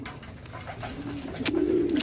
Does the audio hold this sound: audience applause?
no